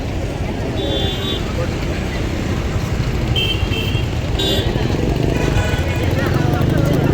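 A KKRTC bus on the Sandur–Hosapete route pulls into Sandur bus station, a loud steady engine rumble amid road and station noise, with people talking over it.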